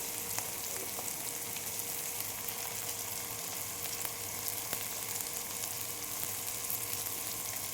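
Chilli, coriander and cumin powders sizzling in hot oil for a Bengali dish, a steady close frying hiss with faint crackles and a few light stirring clicks, no voices.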